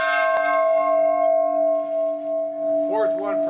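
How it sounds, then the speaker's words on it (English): Peace bell in Northern Ireland, hung to mark a decade of peace and struck for the 25th anniversary by a president: one loud ringing strike with a long sustained hum that fades slowly, while voices talk in the background toward the end. "The bell put up to mark a decade of peace in Northern Ireland, rung in honour of the 25th anniversary by a president"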